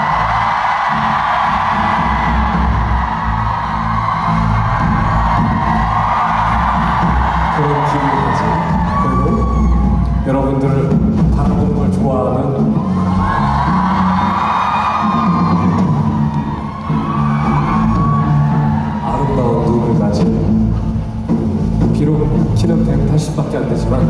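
A concert audience at a national tour show in Gwangju cheers, screams and whoops loudly and continuously, a dense, close crowd roar with rising swells of shouting throughout.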